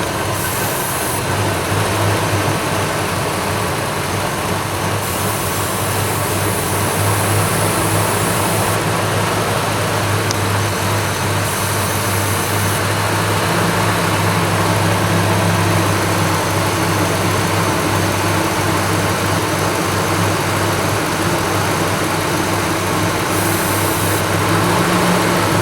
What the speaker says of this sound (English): And if you hear it revving up like that,